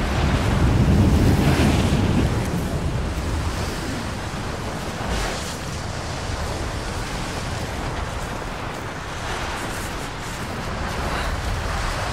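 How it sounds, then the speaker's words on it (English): Strong, steady wind roaring across a mountain in Rise of the Tomb Raider, a loud continuous rushing blast with gusty swells and no voices. "This wind is crazy."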